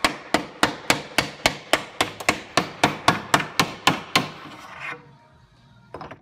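A carpenter taps a handmade wooden joint together between two boards: about fifteen sharp, evenly spaced knocks ring out close and loud, then stop, leaving near silence before one faint final tap.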